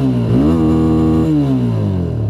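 A TVS Raider 125 motorcycle engine runs steadily after a kick start, a loud, close, smooth hum with a brief rise and fall in pitch, heard alone.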